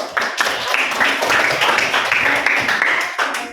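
A classroom of students claps together in a steady, dense burst of applause that lasts throughout, loud and close with no talk over it.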